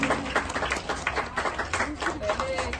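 An audience claps at a student recognition event, a dense patter of applause lasting a few seconds with voices mixed in.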